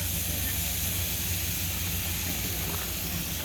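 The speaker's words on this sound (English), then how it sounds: "Listen to that sizzle." Steady broadband hiss and crackle of baby back ribs in barbecue sauce sizzling on a campfire grill, continuous and close, with low rumbling underneath.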